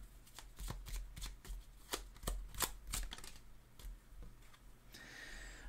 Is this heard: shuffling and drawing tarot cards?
yes